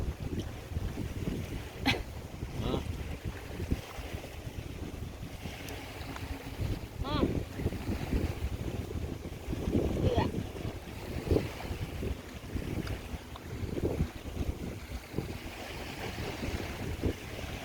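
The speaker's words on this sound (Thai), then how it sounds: "โอ้ยลม" Steady wind blows outdoors on a cold winter hike with a campfire, a constant broad rumble with gusty swells throughout, and faint voices surface now and then beneath it.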